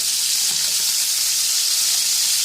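Chicken pieces shallow-frying in a pan of hot oil for Bukhari rice, a steady close sizzling hiss that runs unbroken and fairly loud throughout, with no talking.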